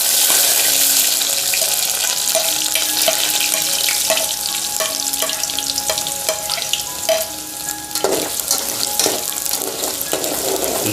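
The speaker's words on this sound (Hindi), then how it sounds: "तेल हमारा गर्म हो गया है। अब इसको हम एक मीडियम साइज का प्याज बारीक बारीक काट कर डाल" A medium onion, finely chopped, hits hot oil in a pan for a dhaba-style chicken fry, giving a loud, close, continuous sizzle with scattered clinks and stirring.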